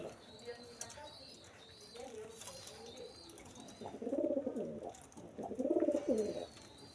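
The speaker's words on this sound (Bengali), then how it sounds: "কবুতরগুলো সব কবুতরগুলো খাচ্ছে," Pigeons coo softly in a loft while they feed, with a couple of fuller, louder coo bursts near the end and light chirps, against a steady background.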